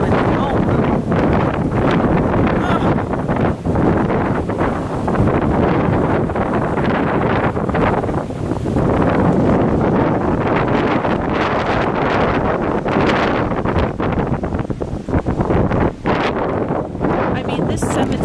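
Strong gusty wind buffets the microphone in a cemetery in Salem, Massachusetts, roaring loudly and continuously with rustling underneath while people talk briefly.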